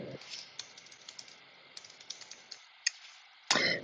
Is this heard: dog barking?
no